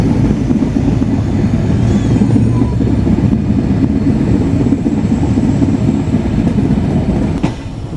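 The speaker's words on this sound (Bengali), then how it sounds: "আমাদের ট্রেন এই মুহূর্তে পার করছে আব্দুলপুর জংশন" Inside the Simanta Express overnight passenger train passing Abdulpur Junction, a loud continuous rumble of wheels and carriages rolls on with faint rhythmic rail clatter and a brief squeal near the end.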